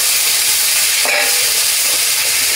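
Ripe red chili paste and cumin paste frying in oil, a loud, dense sizzle heard up close with a single scrape of stirring partway through.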